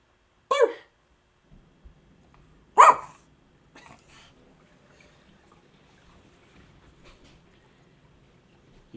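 A dog gives two sharp, loud barks about two seconds apart near the start, followed by a few fainter rustling sounds and quiet background noise.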